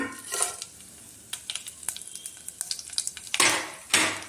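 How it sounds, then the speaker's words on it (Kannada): Mustard seeds, chana dal, urad dal and chillies crackle and spit in hot oil with scattered sharp pops, ending in two louder bursts of spluttering. "ಇದೆಲ್ಲ ಸ್ವಲ್ಪ ಚಟಪಟ ಅಂತ ಸಿಡಿಲಿ"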